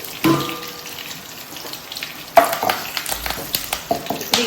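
Curry leaves drop into a hot pan while gongura chutney is being made, giving a brief sizzle followed by close stirring and scraping clatter, with no talking.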